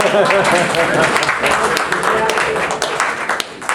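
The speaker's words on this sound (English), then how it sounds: "Yeah, that's an applause line." An audience at a research seminar breaks into loud, dense applause that runs steadily for a few seconds with voices mixed in.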